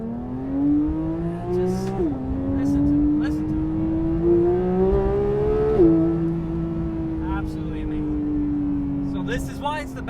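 Porsche 992 GT3 flat-six engine revving hard through the gears while driving, a loud steady rising wail with two quick upshift breaks, close and continuous throughout.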